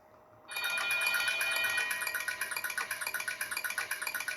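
Electronic bell in the video game Hello Neighbor rings loudly after a quiet start, a bright sustained trill that turns into rapid pulsing repeats, alone without voices.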